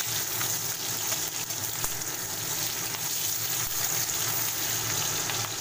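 Whole cumin seeds, garlic and green chillies sizzle in hot oil with a steady, hissing crackle, close and fairly loud, with occasional sharper pops and no voices.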